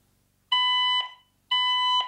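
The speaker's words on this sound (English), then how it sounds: "Causes the fire alarm." A Honeywell L7000 alarm panel sounds its fire alarm during a smoke detector test: two loud, steady electronic tones, each about half a second long, separated by a short gap.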